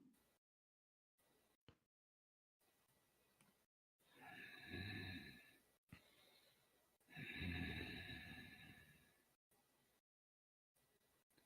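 Heavy breathing comes through as two long, loud, rasping breaths, each lasting about two seconds, amid short quiet gaps and faint low noise, with no talk.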